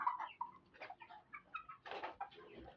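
Poultry chickens in their pen, five-week-old birds clucking and calling in scattered bursts, faint and somewhat distant, with no talking.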